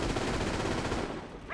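Sustained rapid machine-gun fire in the World War II strategy game Company of Heroes, a dense loud rattling volley that tapers slightly near the end as a short electronic tone cuts in.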